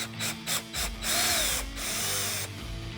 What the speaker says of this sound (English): Let's start taking off the air box one screw at a time.